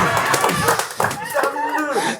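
An audience clapping during a stand-up comedy show, a short burst of hand claps with scattered chuckles, heard under and between a performer's speech.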